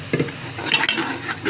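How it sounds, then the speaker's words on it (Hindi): Ground masala mixed with yogurt is stirred and roasted in a pan for fish korma, a few close scraping strokes over a faint sizzle. "अब इसको अच्छी तरह हम भूनेंगे"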